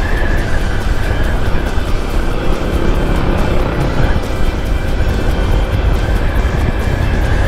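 A motorized tricycle passes on a road with its engine droning steadily and fairly loud over constant traffic noise, and no one speaks.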